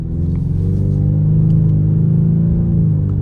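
Four-cylinder engine of a 2025 Ford Mustang EcoBoost with active exhaust, a loud, close, steady low rumble that rises slightly in pitch as the revs climb, with no talking.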